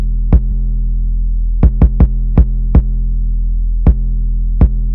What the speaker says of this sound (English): together the 808 and the kick sound like this